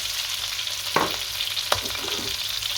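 Beef short ribs with fresh thyme stirred in a hot pan: a steady sizzle with two or three sharp spoon scrapes, close and clear, without voices.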